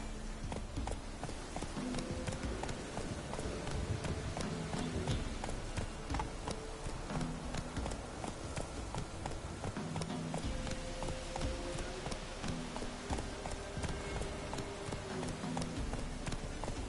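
Hooves beat in a quick galloping rhythm as the horse Roach runs in The Witcher 3. The clip-clop is steady and continuous but soft, with a little talk now and then.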